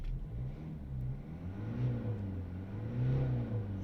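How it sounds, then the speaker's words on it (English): A 2013-2016 Mercedes E Class diesel engine revs steadily with a low, throaty drone that swells and eases a few times, heard up close and alone without any talk. "Just show you the noise of the engine."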